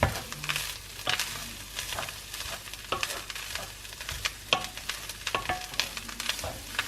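Quorn chilli con carne fries in a pan over medium heat with a constant sizzling hiss, dotted with crackles and intermittent stirring clicks and scrapes, with no talking.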